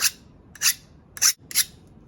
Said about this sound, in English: So I've got my trusty secateurs. Give these a bit of a sharpen as well.